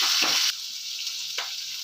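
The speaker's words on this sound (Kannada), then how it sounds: "ಬೆಳ್ಳುಳ್ಳಿ, ಈರುಳ್ಳಿ ಹಾಕೊಂಡು ಸ್ವಲ್ಪ ಫ್ರೈ ಮಾಡ್ಕೋಬೇಕು" Garlic and onion sizzle steadily in hot oil in a pan for chutney, a close, continuous crackling fry with a brief stir near the start.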